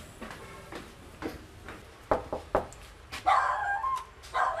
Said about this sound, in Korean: 인기척은 없었고 강아지가 짖는 소리만 들렸습니다